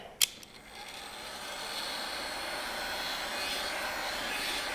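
A heat gun heats headlight tint film to shrink it, opening with a brief click and then a steady, even blowing roar that holds at the same level to the end, with no talk.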